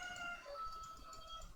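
A neighbor's chicken clucks faintly in the background, a few soft, broken calls that sit low under a steady room hum, with no one talking.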